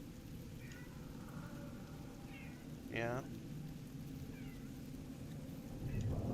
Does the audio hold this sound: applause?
no